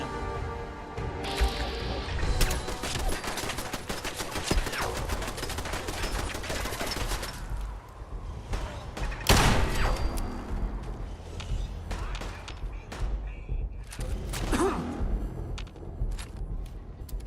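Gunfire in Fallout 4: continuous rapid shots and sharp cracks crowd the scene, some bursts loud and close, others scattered, with explosive impacts mixed in over a busy combat backdrop.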